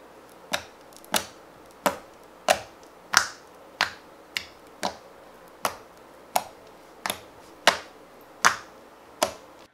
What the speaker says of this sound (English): Poking sounds.